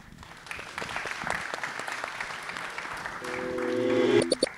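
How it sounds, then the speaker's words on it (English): Conference audience at a DAO event in Tokyo claps for the speakers, a dense run of applause that swells toward the end before cutting off. "Once again, round of applause for the speakers."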